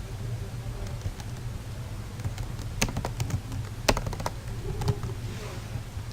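Typing on a computer keyboard, a run of quick, light key taps with a few sharper clacks, close and fairly quiet over a low steady hum.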